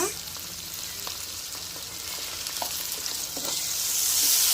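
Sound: ginger-garlic paste frying with onions for country chicken curry

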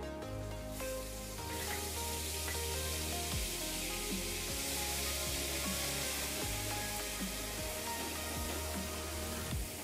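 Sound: onion paste frying in oil

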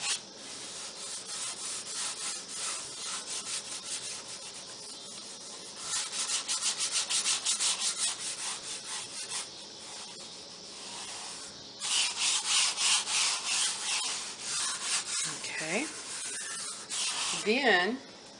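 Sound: rubbing fabric covered in shaving cream ink

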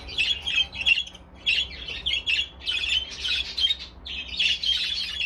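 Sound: breeding birds squawking

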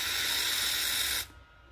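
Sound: spraying cleaner onto motorcycle handlebar switch wiring

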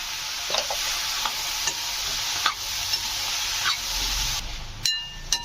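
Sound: ridge gourd pieces sautéing in a pan

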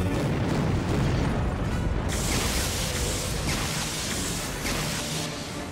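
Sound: rocket explosion in Star Wars The Force Unleashed 2 video game

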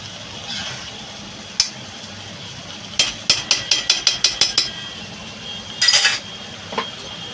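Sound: stirring vegetable curry in a pan

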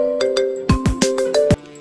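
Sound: mobile phone ringtone

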